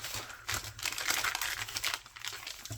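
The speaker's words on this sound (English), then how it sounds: "I'm gonna rip a piece of paper." A sheet of paper is torn by hand close up, quiet crackling rips and crinkles in short bursts, with no talking.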